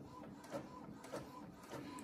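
A home printer turning out digital pattern pages, its carriage sweeping back and forth in steady repeated strokes over a constant mechanical hum, heard up close without any voices.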